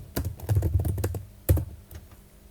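Typing the ls command on a computer keyboard in an Ubuntu terminal: a close burst of quick key clicks, then a sharper isolated keystroke and a few lighter taps trailing off.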